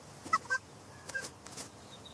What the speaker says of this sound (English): The birds are singing softly in the green trees.